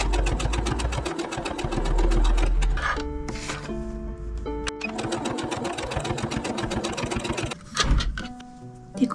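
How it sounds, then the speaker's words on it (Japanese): A sewing machine stitches both sides of a small folded fabric strap for a bag, fast rapid whirring runs broken by short pauses, close and loud. "ここ両脇ミシンをかけます"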